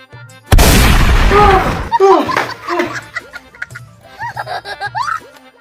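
A prank cigarette bursts with a single loud firecracker-like bang, followed by a burst of broadband crackle and then laughter and chattering voices.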